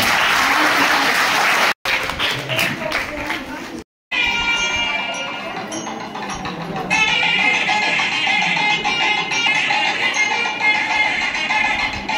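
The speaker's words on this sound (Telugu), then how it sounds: "మొదటగా రమా మేడం గారిని అందరూ కూడా చప్పట్లతో సన్మానం చేయడానికి" A gathering at a school in Adilabad applauds a transferred teacher with loud, continuous clapping from many people, close and full, lasting the whole stretch apart from two brief dropouts.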